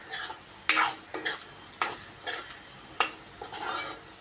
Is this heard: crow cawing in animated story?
no